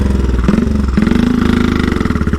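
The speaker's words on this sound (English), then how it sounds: "I know the sound of the exhaust for this bike" A 1934 Velocette KTT vintage motorcycle runs with a loud, steady exhaust beat, a rapid even thumping pulse with slight pitch rises as the engine picks up, heard up close near an avenue of beech trees.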